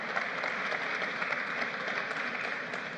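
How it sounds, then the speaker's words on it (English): At an art exhibition launch in an international airport, a crowd gives a soft, distant round of applause, a steady, even patter of many hands lasting throughout without talk. "all we ask for is a round of applause for Glenn Carlisle Chang and the people of Trinidad"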